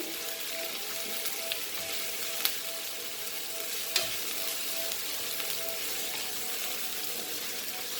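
Chopped tomatoes and whole green chilies fry in a pan with a steady close sizzle, broken by a couple of sharp clicks as they are stirred.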